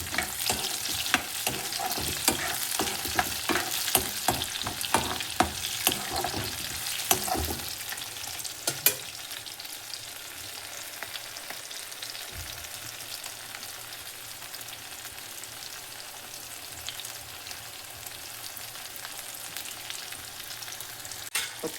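Onions sauté in a pan for a Tamil vathal kuzhambu, a continuous close sizzle with rapid stirring clatter early on, settling into a steady, even frying hiss.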